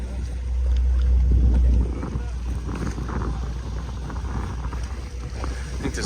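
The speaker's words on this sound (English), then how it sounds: "We got wind in our sails." Wind rushing across the deck of the tall sailing ship Spirit of South Carolina at sea, a steady broadband roar with a stronger gust early on and water movement underneath.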